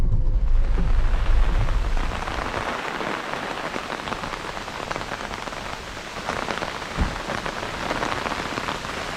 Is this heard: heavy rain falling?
yes